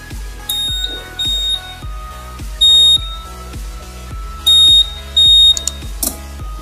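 A Honda PCX motorcycle's lock indicator buzzer sounds loud, sharp electronic beeps in short groups of one to three, each lasting a fraction of a second, over a steady rhythmic ticking in the background.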